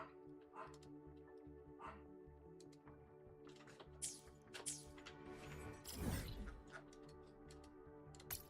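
Barking from Peppy, a dog in a video game, comes as several short, scattered yips over a steady game soundtrack, with one louder burst near the end.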